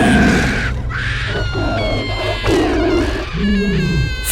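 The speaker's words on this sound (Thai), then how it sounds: "พร้อมเสียงกรีดร้องดังสนั่นลั่นไปทั่วหุบสมิงแห่งนี้" A were-tiger woman in a legend screams and roars, shrill wavering cries that rise and fall, half human and half animal, loud and close over a low rumbling background.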